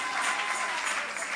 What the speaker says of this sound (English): Clap your hands and praise God,